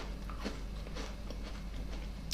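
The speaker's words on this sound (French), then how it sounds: "Ce sont des petits biscuits en effet bien croquants." Crisp crunching of homemade butter Christmas biscuits being bitten and chewed close up, a few quick crunches over roughly two seconds with no talking.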